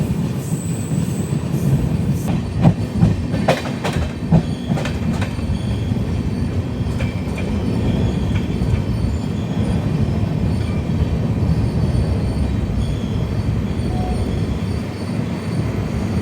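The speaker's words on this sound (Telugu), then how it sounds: "క్రాసింగ్ పడింది ఆ బండికి, మన బండితో." A passenger train on an Indian railway rolls past during a crossing with another train, with a loud, steady rumble of wheels and carriages, metallic clatter and occasional squeals, heard close and without talk.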